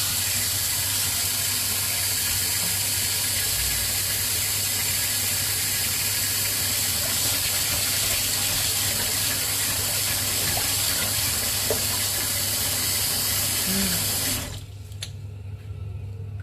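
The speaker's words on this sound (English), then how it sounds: "I'm going to turn the tap back on" A kitchen sink tap runs steadily, a continuous hiss and splash of water filling the sink, fairly close, then cuts off abruptly near the end, leaving a quiet room.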